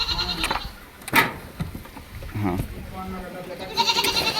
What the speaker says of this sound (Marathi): शेळ्यांमुळे जास्त राडा होतो